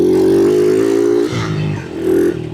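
A stock-exhaust 2021 four-stroke motorcycle engine, close and loud, holding a steady droning note before dipping and then rising again in a brief rev.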